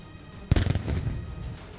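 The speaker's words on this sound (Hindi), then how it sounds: "नौसेना ने तोपों से सलामी दी" A single sharp cannon boom from a Russian navy salute on Navy Day in St Petersburg, loud and close, followed by a rumbling echo that slowly fades.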